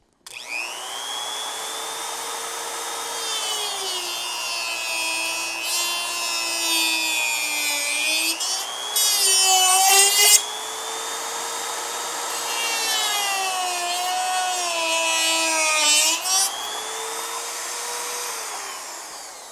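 A high-pitched Dremel rotary tool whines steadily while cutting plastic on a kayak, its pitch sagging under load and rising again, with brief rougher bursts of grinding contact.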